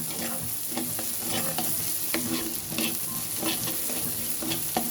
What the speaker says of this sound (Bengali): পেঁয়াজটাকে একটু ভালো করে ভেজে নিচ্ছি সরিষার তেলের উপরে।